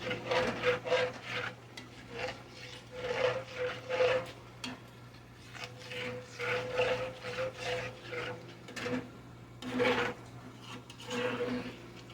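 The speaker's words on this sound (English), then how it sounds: "we're going to scrape the bottom of that skillet and make our gravy" Spatula scrapes across the bottom of a skillet holding hamburger steak drippings, onions and beef bouillon while gravy is made, giving repeated rough rubbing strokes in bursts, close and moderately quiet, with no talking.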